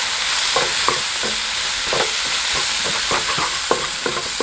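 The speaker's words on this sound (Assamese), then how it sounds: "হালধি দিছোঁ আধা চামুচ দিছোঁ জিৰা বেছিকৈ নহয় অলপমান দিছোঁ একচুৱেলি আৰু এইখিনি ভাজি ল'ম" Turmeric and a little cumin fry in a small amount of oil, a light continuous sizzle broken by repeated close scrapes and clacks of a spoon stirring the pan, with no voices.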